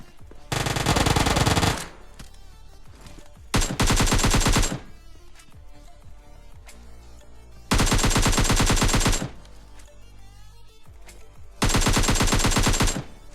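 Automatic gunfire in the battle royale game PUBG Lite, four loud sustained bursts of rapid shots separated by quieter gaps with faint game ambience.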